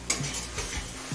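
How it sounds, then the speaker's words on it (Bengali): Spices sautéing in a pan over a medium flame for a Bengali prawn pulao, giving a soft, faint sizzle with a few light scrapes of a spoon stirring, and no talking. "এবার মিডিয়াম ফ্লেমে সমস্ত মশলা কিছুক্ষণ কষিয়ে নেব।"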